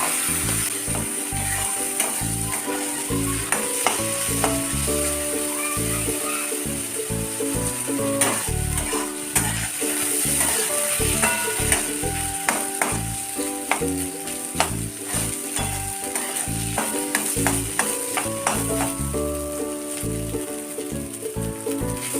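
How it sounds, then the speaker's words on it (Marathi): Washed barnyard millet roasts in ghee in a kadhai, giving a steady close-up sizzle broken by frequent scraping and clacking strokes as it is stirred, with no talk. "ही धुतलेली भगर आपल्याला त्या तुपामध्ये चांगली भाजून घ्यायची आहे"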